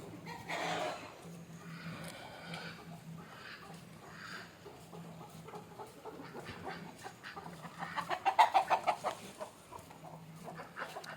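Native country chickens cluck nearby in soft, repeated bursts, rising to a louder run of clucks, with faint background noise and no talking.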